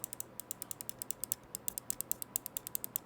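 Rapid, crisp left button clicks of a Pulsar X2F mouse repeat in a quick, even rhythm, close and clear against a quiet background.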